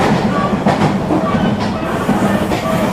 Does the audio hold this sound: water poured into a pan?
no